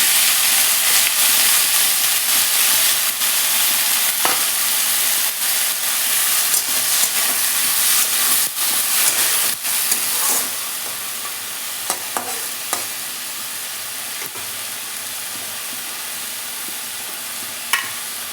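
Lentils tipped into hot oil tempered with kalo jeera (nigella seeds) give a loud, steady sizzle and hiss that settles a little after ten seconds, with occasional stirring scrapes and clinks and no talk.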